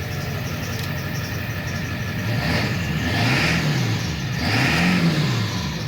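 A Ford F-350 with a 7.3 diesel engine and a newly installed tuner idles close by, then revs twice in quick rising-and-falling swells, with no talking.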